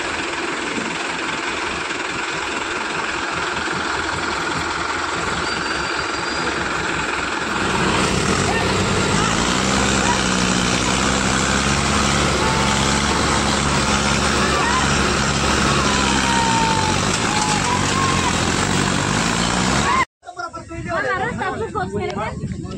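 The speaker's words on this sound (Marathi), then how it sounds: "तर गाईस बघू शकता JCBने मागं ओढायची तयारी चालू आहे।" A JCB and tractors strain to drag a fallen sugarcane trailer backward, a loud, steady diesel engine drone with rumbling load that thickens midway, voices murmuring in the background before an abrupt cut near the end.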